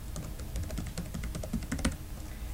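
Steady, rapid typing on a computer keyboard, many close, distinct key clicks in an irregular run with no voice.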